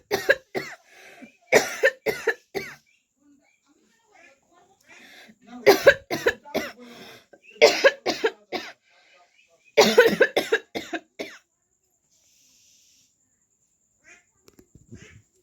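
A person coughs in hard, repeated bursts, close and loud, with groups of coughs separated by short quiet gaps and a few faint throat sounds near the end.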